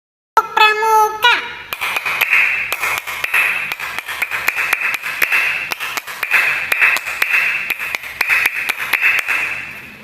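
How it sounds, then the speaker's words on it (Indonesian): Children performing the Indonesian scout clap (tepuk pramuka), a quick rhythmic pattern of sharp hand claps repeated in a steady beat, following a brief spoken start, with an electronic tone sustained underneath. "Mari anak-anak kita memperagakan tepuk pramuka berikut ini bersama-sama."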